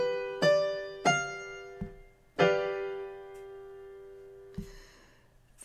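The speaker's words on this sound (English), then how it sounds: "The dominant seventh consists of a major triad plus the minor seventh, and it sounds like this" A G dominant seventh chord builds from separate struck notes in a steady arpeggio, the tones ringing on and sustaining together, with a few dull low knocks between and after the notes.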